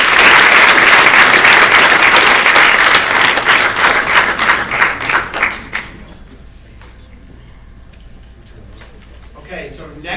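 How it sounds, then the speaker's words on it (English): Audience applause at a startup founders' demo day pitch event, loud sustained clapping that thins into scattered individual claps and fades out after about six seconds, leaving quiet room tone and a voice near the end. "Give a round of applause."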